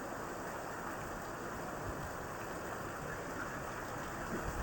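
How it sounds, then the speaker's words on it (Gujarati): Steady rain pours down in a dense, even hiss, continuous and unbroken, with no voices. "વરસાદ હજી ધીમો નથી પડી રહ્યો,"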